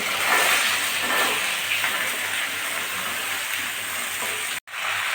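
Chopped vegetables sizzling in hot oil with ginger paste, a steady broadband hiss of frying that holds evenly for several seconds before a brief sharp dropout near the end.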